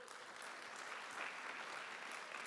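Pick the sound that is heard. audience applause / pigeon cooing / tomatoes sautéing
audience applause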